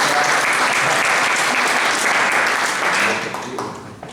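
An audience claps together at a local Wikipedia presentation in Hoyo de Manzanares, a full, steady round of applause that fades out over the last second.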